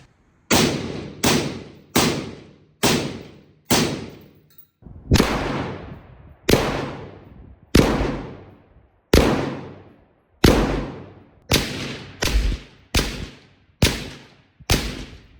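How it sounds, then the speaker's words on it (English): A rifle fired with a Dead Air Lazarus suppressor at a 25-yard range. About sixteen sharp, loud reports come singly at a steady pace of roughly one per second, each decaying quickly, with no talk. "25 yards, suppressed with the Dead Air Lazarus."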